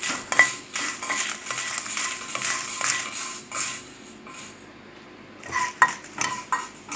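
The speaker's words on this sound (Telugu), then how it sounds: "ఇప్పుడు ఎండుమిర్చి వేయించుతున్నాను." Dry red chillies roasting in a pan for instant chutney powder, with repeated metallic scraping and clinking of a spoon against the pan in uneven bursts, close and fairly quiet, a brief lull midway.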